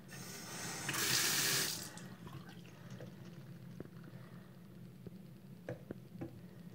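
A tap gushes water into a sink in a short loud burst of about a second, then shuts off, followed by faint drips and small clicks in an otherwise quiet room.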